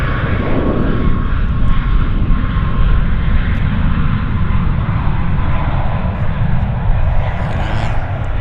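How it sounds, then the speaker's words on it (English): An Air Canada Boeing 737 MAX jet on its takeoff roll at Vancouver International Airport, a loud, continuous engine roar that holds steady throughout from a fairly close position. "Air Canada Max on the roll."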